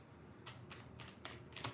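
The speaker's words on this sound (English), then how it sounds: "I had them down, but I was shuffling." Playing cards shuffled in four or five quick riffling bursts, close and moderately loud, each a short crisp ripple with brief pauses between, no talking over them.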